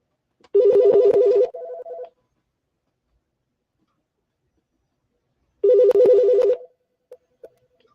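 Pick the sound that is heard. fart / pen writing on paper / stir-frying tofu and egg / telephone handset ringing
telephone handset ringing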